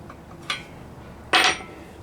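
A hammer strikes a rivet on metal in a workshop where parts are being brazed and drilled. There are two sharp metallic taps, a lighter one followed by a louder ringing blow, each close and clear.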